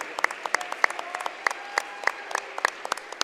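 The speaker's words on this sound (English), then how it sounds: "if we give a huge round of applause to say thanks to these 2 amazing men" A crowd at a junior varsity boys' soccer game between Northwest Mohawks and Western Indians claps in thanks. The clapping is thin and scattered, with sharp individual claps spaced irregularly over faint background tones.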